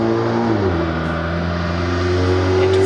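Turbocharged VW GTI engine droning loud and steady on a dyno, its pitch dipping slightly as it shifts from third into fourth gear around 3,000 RPM, then holding a continuous strained hum.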